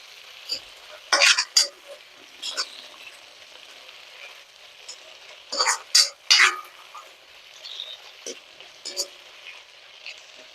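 Drumstick leaves are sautéed in oil over a low flame, with a spatula stirring and scraping the pan in intermittent clustered bursts over a faint, quiet sizzle.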